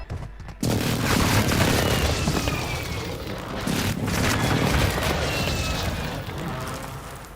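Airstrike explosions in a video game, a sustained roar of booming blasts and rumbling bursts that fills the clip after a brief quiet start, loud and dense with crackling debris layered on top.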